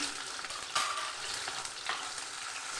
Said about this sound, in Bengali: রসুন লঙ্কা লাল করে ভেজে নেব